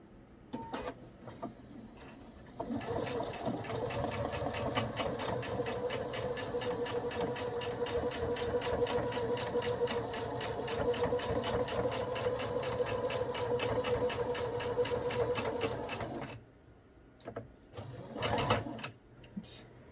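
A sewing machine stitches over elastic on a hospital mask, starting after a short quiet pause and running in a steady rapid whir for about fourteen seconds before stopping, followed by a few brief clicks and handling noises.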